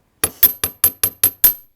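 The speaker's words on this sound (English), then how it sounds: "Hammer that, put my finger over here, hammer the edge" A small hammer flattens a metal earring wire, seven sharp ringing metallic taps in an even rhythm, close and loud with short decays and silence between strikes.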